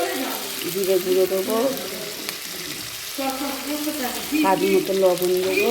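Spices sizzle and fry in hot oil with ginger, a steady crackle running through the clip beneath a voice speaking over it at close range.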